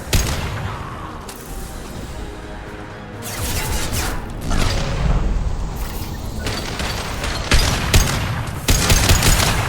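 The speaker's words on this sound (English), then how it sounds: "Firing concussive shot" Concussive shot fired in Mass Effect 2 amid combat, with repeated loud booming blasts and crashing impacts over a steady background of battle noise and gunfire.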